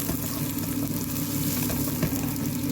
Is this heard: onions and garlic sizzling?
yes